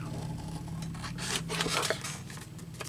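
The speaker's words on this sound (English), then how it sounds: "Get my littler scissors to do the corners." Small craft scissors snip paper to trim the corners of an altered index card, giving a run of close, crisp cutting sounds that grow denser midway, with no talking.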